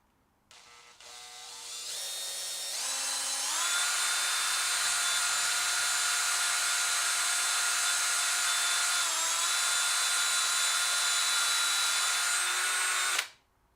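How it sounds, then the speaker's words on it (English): A power drill spins up and bores steadily with its drill bit, a loud continuous whine that holds a constant pitch for about ten seconds, dips briefly, then cuts off abruptly. "I'm just letting the drill bit do its thing."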